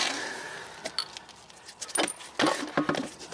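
Small metal key from a riding lawnmower wheel rim drops out and clinks several times in quick, light metallic jangles, fairly near and otherwise quiet.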